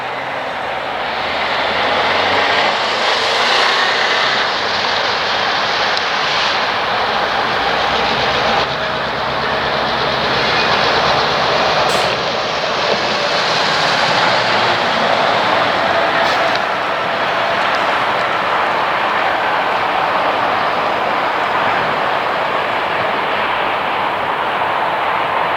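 NYS&W freight locomotive switching boxcars on the Utica Branch's New York Mills industrial track, a steady loud rumbling drone that holds for the whole stretch with no talk.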